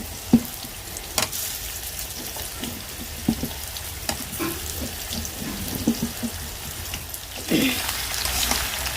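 Mango pickle sizzles and crackles steadily in a pan with garlic while it is stirred, with scattered soft knocks from the spoon.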